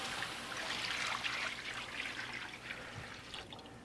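Water pours and trickles into the hot water bowl of a Weber Smokey Mountain smoker while a brisket is being set up, a steady close splashing fill that thins out toward the end.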